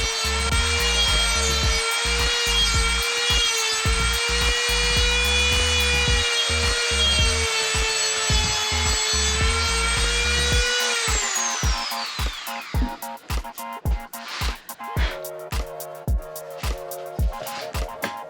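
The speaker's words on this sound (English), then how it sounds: "And now I'm just going to Dremel it." A Dremel rotary tool whines at a high, steady pitch for about ten seconds while cutting for a USB charging port on a Rebel 500 motorcycle, then spins down, followed by scattered clicks and taps.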